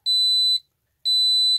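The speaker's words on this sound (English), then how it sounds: "It says it will beep for 5 seconds and then it goes back to the original clock mode." A Goloza digital wall clock's timer goes off with two loud, steady high electronic beeps, each lasting about half a second and separated by a short silence.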